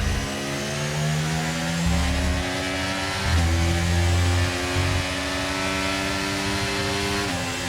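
A Formula 1 race car in the F1 23 video game drives back to the pits after the Brazilian Grand Prix, its engine a steady loud drone that rises and shifts pitch in surges, with no talk.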